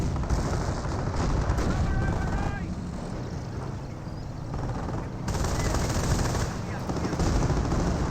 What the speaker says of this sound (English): We got decoy barrage now coming on in.